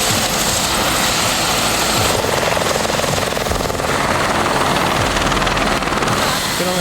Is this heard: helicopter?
yes